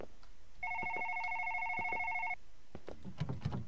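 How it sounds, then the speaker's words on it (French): In a horror video game, an office telephone rings with one sustained electronic trill lasting nearly two seconds, followed by faint clicks and soft handling sounds. "c'est dans mon bureau que le téléphone sonne, je pense."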